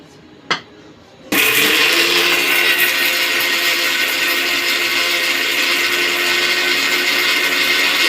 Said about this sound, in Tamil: இப்போ அடுத்தது மசாலா அரைச்சிக்கலாம் வாங்க